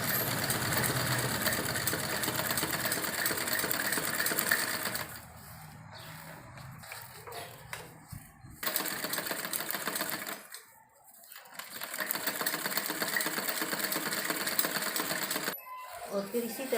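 Sewing machine stitching the hem of a salwar leg, bursts of rapid mechanical whirring broken by short pauses, close up, with someone talking intermittently over it.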